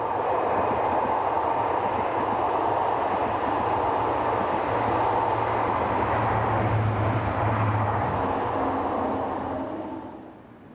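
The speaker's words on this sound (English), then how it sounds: "a Class Z 76500 unit overtakes the train whilst on a working from Caen" A Class Z 76500 electric multiple unit overtakes on a French line while working a service from Caen, giving a steady, loud rolling rumble that holds for about ten seconds before easing away at the end.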